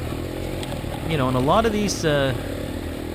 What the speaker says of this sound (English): if you listen to the engine here, you can hear